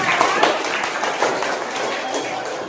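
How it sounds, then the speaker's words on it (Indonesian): A classroom applauding a student group after their presentation: dense, irregular clapping from many hands, fairly close and steady, swelling briefly at the start and mid-way. "Tepuk tangan untuk kelompok 2"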